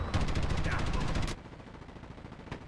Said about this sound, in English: Oh, I ran right into an airstrike.